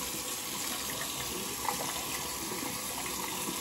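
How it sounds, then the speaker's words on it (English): A razor being rinsed under a running kitchen or bathroom tap after a shave with a shave puck; a steady, close stream of water splashes continuously, with one brief knock midway and no talking. "Rinse off that razor."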